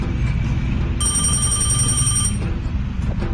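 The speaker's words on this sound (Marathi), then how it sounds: "भावा फोन आला" A telephone rings with one bright, electronic bell-like trill lasting just over a second, heard over a loud, steady rumble of background noise, with no one speaking.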